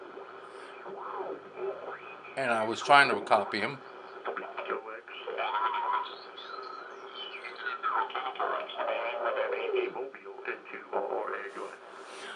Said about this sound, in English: as you can hear, this guy is on single sideband